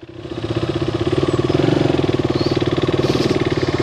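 A motorcycle rides along a road in Sikkim, its engine a steady, rapid, throbbing pulse close up that builds slightly and holds, with no talking.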